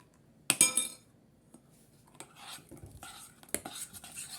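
Utensil clinking and scraping against a bowl while banana waffle batter is mixed, a sharp clink at first followed by a series of lighter taps and scrapes, fairly close and quiet.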